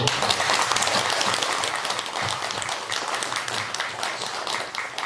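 Sustained crowd applause from an audience at a Buddhist dharma assembly in Bosa Temple, Gwangju, a dense steady wash of many hands clapping close and loud throughout.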